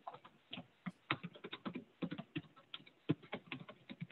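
Fingers tap quickly on a computer keyboard during an online community meeting, a close, dense run of light plastic clicks with no voices.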